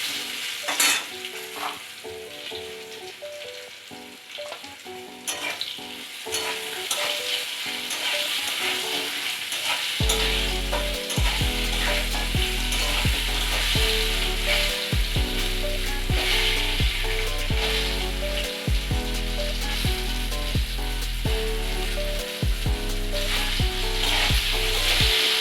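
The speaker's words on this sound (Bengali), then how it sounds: "আলুটা একটু ভেজে নেব।" Potatoes frying in oil in a pan for a Bengali rohu fish kalia, giving a continuous hiss and sizzle that grows fuller partway through, with a steady tonal layer underneath and no voices.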